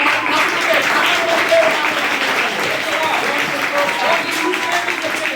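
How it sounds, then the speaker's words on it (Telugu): A church congregation claps its hands at a religious gathering, a steady dense wash of applause that carries on throughout, with a voice speaking over it. "you please clap your hands"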